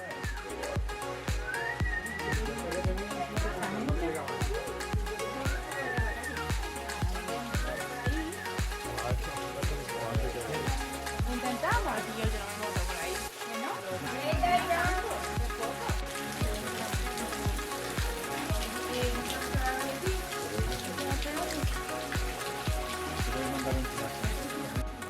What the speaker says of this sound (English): But we knew there was a famous waterfall,